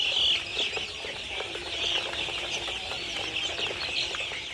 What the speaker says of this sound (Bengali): এখন দেখাবো তিথির মুরগি তিন মাস বয়সী তিথির মুরগি